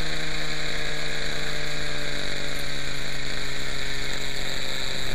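A small engine on a Quickie 18 with a hard-starting problem idles steadily while its carburetor trim is adjusted, a loud constant buzzing drone with a strong even hum and no pauses.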